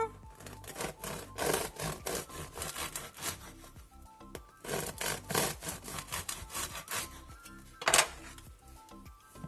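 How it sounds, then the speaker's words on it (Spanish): A knife saws through the crisp crust of a homemade loaf, producing rhythmic, rasping back-and-forth strokes in bursts, close and fairly clear, ending with a sharp crunch. "vamos a cortar este mismo"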